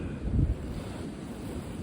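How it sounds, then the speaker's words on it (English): Strong wind gusts roar and buffet outdoors near an airport, a low, rushing wall of noise that swells briefly near the start, then settles into a steady, loud blow. "look how much the winds are blowing"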